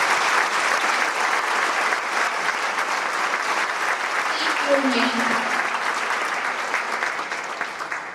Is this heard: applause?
yes